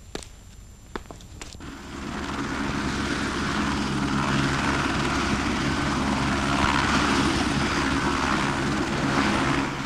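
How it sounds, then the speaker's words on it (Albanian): A transport helicopter flies nearby with a steady, broad rotor and engine roar that swells in after a few brief knocks and holds loud and constant. "të bëhet gati një helikopter transporti"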